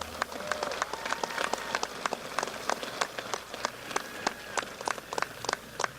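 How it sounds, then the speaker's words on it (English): Graduation audience in a high school ceremony hall gives scattered, faint applause, individual claps spread sparsely and unevenly across a quiet room. "You can clap."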